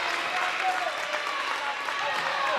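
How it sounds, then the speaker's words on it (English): A crowd at a girls' high school basketball game roars and cheers in a dense, sustained wash of voices and clapping that fills the gym without pause. "Lions crowd chanting."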